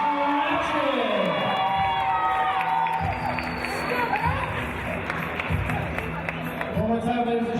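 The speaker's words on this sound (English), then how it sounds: "One more time, ladies and gentlemen, nice round of applause" A large crowd at a women's college basketball championship final cheers and claps, a steady roar with scattered shouts, while an announcer's voice talks over it.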